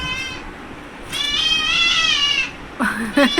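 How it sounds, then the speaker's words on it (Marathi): A pet cat meows repeatedly while asking for cat food, giving a long, rising, insistent cry and then a shorter one nearby, with a little background noise at home. "काय चिकू काय पाहिजे कॅट फूड खातो"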